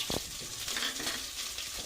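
Brinjal for begun basanti fries in a pan with a close, steady sizzle and short bursts of stirring.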